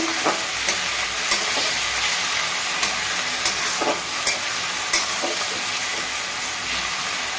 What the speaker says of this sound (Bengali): আদা রসুন পেস্টটা দিয়ে দিলাম এটাকে ভালো করে সুন্দর করে আদা রসুনটাকে ভাজতে হবে